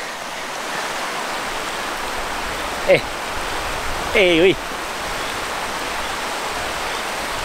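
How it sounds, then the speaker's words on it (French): A river flows near a bivouac in the Queyras mountains, a steady broadband rush filling the background, with a person briefly speaking over it. "La rivière coule."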